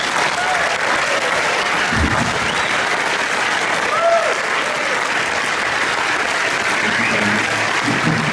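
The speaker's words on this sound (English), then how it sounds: "Please give a warm round of applause for this year's 2016 Music for Life Award recipient" Sustained audience applause at the NAMM 2016 Breakfast of Champions for the 2016 Music for Life Award recipient, a steady, dense roar of many clapping hands that fills the room and holds evenly without letting up.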